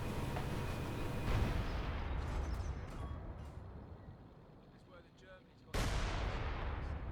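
Creeping smoke artillery barrage in Company of Heroes 2: a steady wash of rumbling shell impacts and crackle that eases off, then a loud fresh burst near the end.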